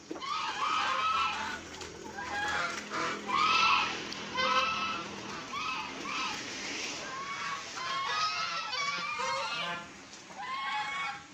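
Village chickens and chicks are let out of their coop, giving repeated bursts of high clucks and peeps close by, with short pauses between the calls.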